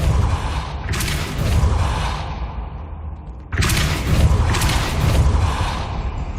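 Two bursts of a Depulso spell cast in Hogwarts Legacy, each a loud swooshing blast with a deep rumbling low end, the second sharper onset after a brief dip, with no talk.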